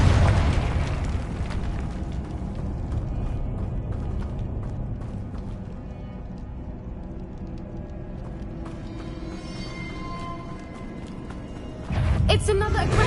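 Confringo fire spell blasts in the Hogwarts Legacy video game, loud booming explosions rumbling continuously with a sharp fresh burst near the end, over dense game effects.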